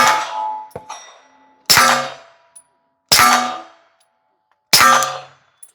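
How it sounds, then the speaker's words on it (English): 9mm Glock pistol rounds striking a steel target at an outdoor shooting range, a sharp metallic clang ringing out and decaying, repeated four times at roughly 1.5-second intervals, loud and close with no talk. "the hitting the steel is louder than the actual gun going off"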